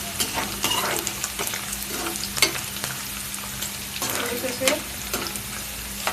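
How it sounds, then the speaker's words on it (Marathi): Vegetables for brown rice vegetable pulao frying in a pan, with steady sizzling and intermittent scraping stirs of a spoon, close and moderately loud, with no talking. "फ्राय जर करून घेतले ना ते अजून छान लागतात खाताना."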